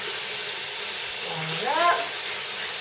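Water runs steadily from a tap while a makeup brush is rinsed, a constant close hiss with a brief voice-like sound partway through.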